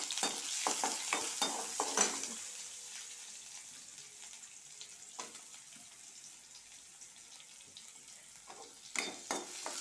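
Chopped onion and green chili frying in a pan for parotta salna, with a soft sizzle and occasional stirring scrapes and clinks, quiet and close, with a brief bit of water running.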